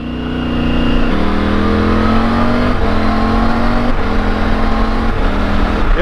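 A 2021 Triumph Tiger 900 GT Low motorcycle accelerates hard through several gears, its close, loud engine note climbing in pitch, dropping briefly at each of about four upshifts, then rising again.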